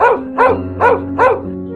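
A dog in a narrated children's story barks four times in a steady rhythm, loud and close over a low sustained musical tone.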